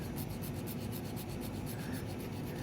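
Metal screw scraped back and forth across the printed markings on a torque wrench handle, a quiet rhythmic rasping scratch, close and faint, no talking.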